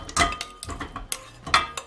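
Marinated pork ribs go into a metal cooking pot, giving several close clinks and clanks of metal against metal in an irregular run of sharp knocks, with no voices.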